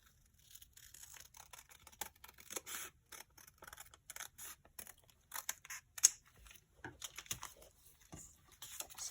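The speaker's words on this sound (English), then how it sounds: "I'm going to cut just a little bit on that side of that line." Scissors snipping paper for a handmade planner, a quick irregular series of close crisp cuts and rustles, with no talking.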